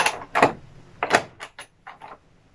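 The door of an antique French refrigerator that runs without electricity is opened, giving a few loud, close knocks and clunks followed by softer rattles as it swings, with no talking.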